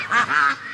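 A Muscovy duck gives two short, honking quacks in quick succession, close and clear against a quiet background.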